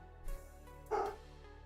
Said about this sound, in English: Hope you can hear Maverick downstairs barking